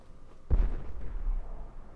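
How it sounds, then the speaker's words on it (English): A single deep boom from a distant explosion in Fallout 4 hits suddenly and rumbles low, then fades into a dull, lingering roar with no other sounds over it. "An explosion in the distance alerts me to some zombies"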